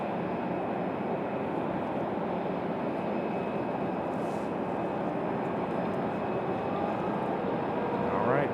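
An Air France airliner, likely an A350, departs Raleigh-Durham at night with a steady, loud broadband engine roar that holds evenly throughout and swells slightly at the end.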